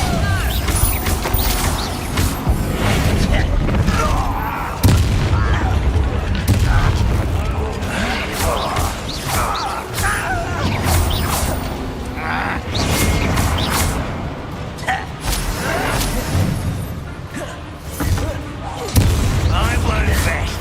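Repeated booming spell blasts from Bombarda and other combat magic in Hogwarts Legacy while battling goblins, loud and dense, with crashes and impacts running throughout under game music, and shouted character voices.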